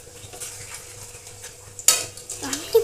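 Momos frying in a pan, a soft close sizzle under light stirring with a sudden sharp clatter of a utensil against the metal pan partway through and another scrape at the end.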